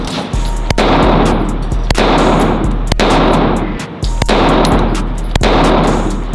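Loud Glock pistol shots at an indoor gun range, five sharp reports spaced about a second apart over a steady low rumble, with no talk.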